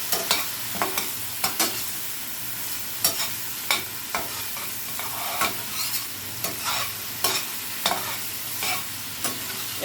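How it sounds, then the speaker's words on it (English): Ham fried rice with cooked-down onions is stirred in a frying pan over a steady sizzle, a spatula scraping and clacking against the metal in quick irregular strokes, close and alone. "you're going to continue stirring"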